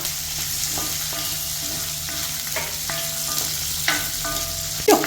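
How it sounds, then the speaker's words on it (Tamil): Onion, green chilies and dried red chilies sautéing in a pan, a steady close sizzle with spatula scrapes and stirring clicks, music in the background and a louder scrape near the end. "வெங்காயம், பச்சை மிளகா, வரமிளகா இதெல்லாம் போட்டுடலாங்கன்னா இதை இப்போ கொஞ்சம் நல்லா வதக்கிக்கலாங்க"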